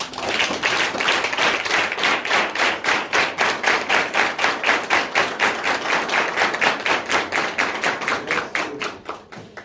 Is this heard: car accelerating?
no